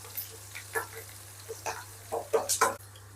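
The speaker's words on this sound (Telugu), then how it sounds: "ఇప్పుడు కరివేపాకు, బాగా ఫ్రై అవ్వాలి" Curry leaves frying in a pan over a low flame crackle in short, close bursts, with sharper pops clustered toward the end.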